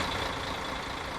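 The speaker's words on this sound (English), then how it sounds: "Obviously the engine's still running while people get on and off, but that is quite loud." A bus engine idles at a stop in Tourist Bus Simulator, a steady, dense rumble held at an even level throughout.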